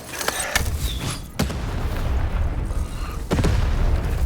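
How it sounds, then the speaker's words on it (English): Cannon blasts in the video game Lost in Random: three booming shots with a creaking mechanism at about half a second, 1.4 seconds and 3.3 seconds, each leaving a rumbling tail, loud and close with no talk. "Shoot the button to fire the cannon."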